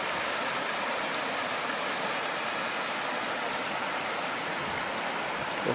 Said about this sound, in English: There's the big Carp River going into Lake Superior.